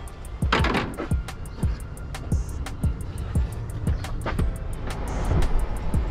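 A Honda Element drives along a road, its cabin filled with a low engine and road drone broken by a steady series of sharp rhythmic thumps and clicks, moderately loud and continuous.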